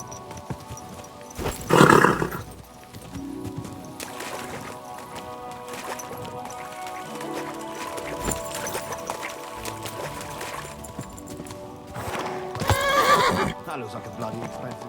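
In the medieval video game Kingdom Come: Deliverance II, a horse gives two loud, shrill whinnies several seconds apart, with hooves clopping and game noise around them and voices talking in between.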